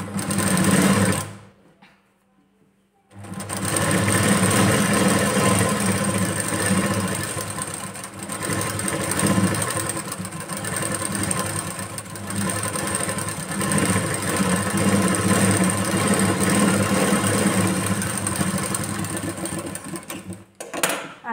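A sewing machine runs continuous stitching on blouse fabric, a close steady mechanical whirr with a short pause near the start, then carrying on almost unbroken to the end.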